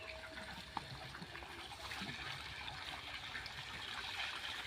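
Water pouring from a borewell on a farm field, a steady close trickling and splashing flow that grows slightly fuller midway, with no talk over it.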